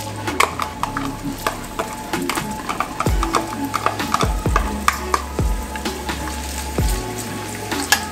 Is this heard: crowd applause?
no